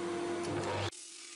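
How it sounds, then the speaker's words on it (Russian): A power saw cutting a piece of beech for woodworking trim gives a loud, steady whine with a constant pitch, then cuts off abruptly into a quieter lingering hum. "Немножко отрежем бука, тем самым немножко декорируем наше изделие другим сортом дерева."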